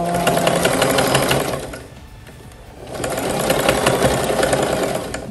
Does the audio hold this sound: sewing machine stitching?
yes